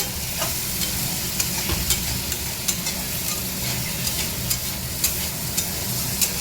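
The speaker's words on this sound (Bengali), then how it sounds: "আলুটা দেওয়া হয়ে গেছে মশলাটাতে দিয়ে আলুটা ভাজা হচ্ছে" Potatoes sizzle steadily in spices in a pan while a utensil stirs them, adding regular scraping clicks over the constant frying hiss.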